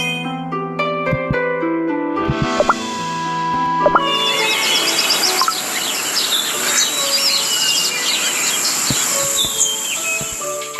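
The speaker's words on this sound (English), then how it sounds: "Hello, little birds. Come for your morning berries again?" Birds chirp and tweet in the Cookie Run Kingdom mobile game. A few seconds of melodic game music come first, then a busy layer of bright, overlapping chirps continues steadily over a soft ambient bed.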